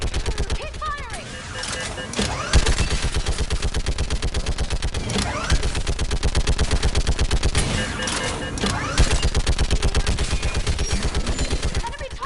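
Mass Effect 3 combat with sustained rapid machine-gun fire, loud and continuous, with dense repeating shots and occasional heavier blasts, and voices shouting over the shooting.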